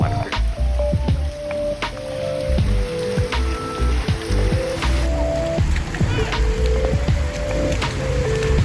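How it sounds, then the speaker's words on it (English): Heavy rain pours steadily in Mexico, with dense patter and scattered drips close by, no voices. "at about this time, it also started absolutely pouring."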